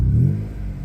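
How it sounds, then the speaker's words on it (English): A 1996 Vauxhall/Opel Astra F engine, in neutral, rumbles loudly up close with a brief rev, a low throaty growl that settles into a steady idle. "Let's start her up and let's hear the sound of the engine"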